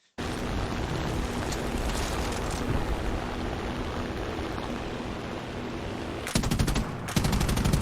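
Rapid machine-gun fire from a B-34 bomber's gunner position in an air arcade combat video game, a continuous dense rattle of shots lasting several seconds with sharper bursts near the end.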